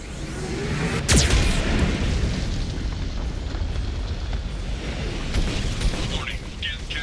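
Geth cannon blasts boom in the Mass Effect 2 video game, one sharp heavy explosion followed by rumbling fire and debris, with faint bursts near the end.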